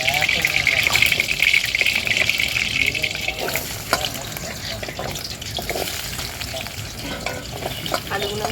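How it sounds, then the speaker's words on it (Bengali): Potatoes frying in hot oil in a home kitchen, a loud steady sizzle with occasional stirring scrapes, continuing close up throughout. "আলুগুলো আমি লাল লাল করে ভেজে নেব।"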